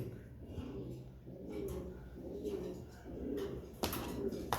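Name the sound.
pigeons cooing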